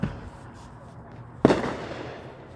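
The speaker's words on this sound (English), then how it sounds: "It's fun to watch fireworks." Fireworks explode outdoors. One sharp, loud boom is followed by a long rumbling decay, with a fainter pop at the start and general background noise.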